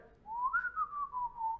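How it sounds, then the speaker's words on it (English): A single person whistles a clear, wavering melodic tune, close and alone with no talking, lasting under two seconds. "You got to whistle while you do it."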